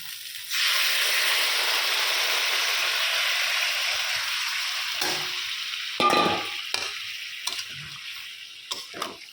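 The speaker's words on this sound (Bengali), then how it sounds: "গরম জল দিয়ে দিচ্ছি।" Hot water is poured into a cauliflower and potato curry cooking in a hot pan, setting off a sudden loud sizzling hiss that slowly fades, with stirring scrapes and clinks toward the end.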